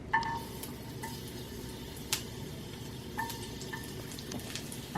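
Garlic cooks in oil in a pan, giving a soft continuous sizzle with scattered small pops and a few stirring scrapes, close and moderately quiet, with no one speaking.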